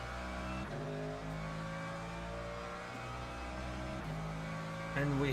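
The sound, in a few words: Mercedes GT3 race car engine in Le Mans Ultimate video game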